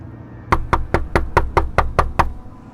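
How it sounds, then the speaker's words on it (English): Nine firm, evenly spaced knocks rap on a door close by in a quick, steady rhythm, with nothing else heard. "Seconds later, there was a knock at the door."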